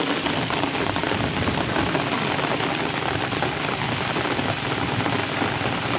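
Heavy rain pours steadily over a home garden of desert rose plants in Hyderabad, a dense, unbroken hiss of drops hitting surfaces, loud and close without any voices.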